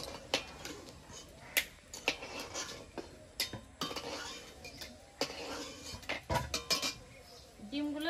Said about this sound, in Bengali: আমার এইদিকে ডিমগুলো সেদ্ধ হয়ে গেছে, এবার ডিমগুলো নামিয়ে নেব